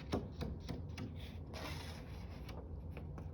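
A sewing machine zigzag stitching in white thread, faint irregular clicks and rubbing mechanical rattles at close range, with no talk over them.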